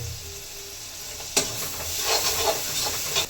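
Onions are stirred and fried in a pan for Maggi noodles, giving a steady, close sizzle. A sharp clack of the spatula lands partway through, followed by busier scraping and hissing, with no talk.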